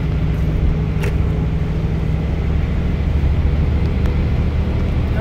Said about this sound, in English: It looks like a burner truck too.